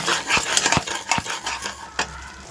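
Eggplant with salt and sugar being stirred and sautéed in a pan, close irregular scraping and clattering of a utensil against the metal with a faint sizzle underneath.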